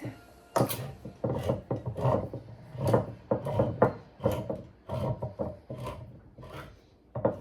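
A washed can of salmon being opened with a can opener, a close series of rhythmic grinding, ratcheting clicks and metal rasps repeating steadily with no talk.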